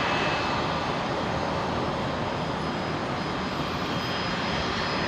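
A Jetstar Airbus A321neo jet at Brisbane International Airport makes a steady, loud engine roar that holds evenly throughout with no speech.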